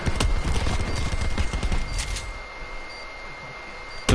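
Rapid gunfire bursts in Black Ops 4 Search and Destroy, several sharp close shots in quick succession during the first two seconds, a couple of isolated cracks after, then quieter game ambience.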